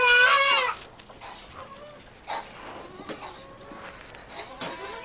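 Goats and young kids on a goat farm bleat in a few separate calls, one loud and close at the start and fainter ones following, with no talking.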